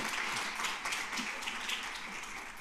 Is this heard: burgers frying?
no